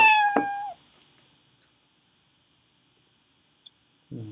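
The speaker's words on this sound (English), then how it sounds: "The sound of cat is peaceful." A cat meows once in a video game, a short harmonic cry with a falling tail near the start, followed by near silence with a faint click and a brief low sound at the end.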